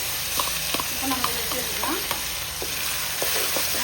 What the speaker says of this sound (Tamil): நல்லா வெங்காயம் இப்போ வதங்கிச்சு